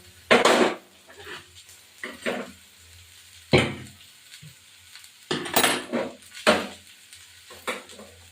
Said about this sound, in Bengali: এবার আমি এগুলো নামিয়ে দেবো, হয়ে গেছে কপি ভাজা, এটার মধ্যে নামিয়ে দেবো।